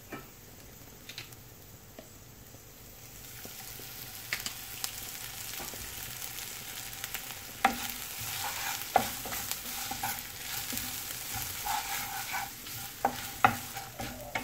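Dried chilies and curry leaves frying in oil in a pan for a bean and papaya kuruma: a continuous crackling sizzle that grows louder, punctuated by sharp ticks and clicks of stirring, with no talking.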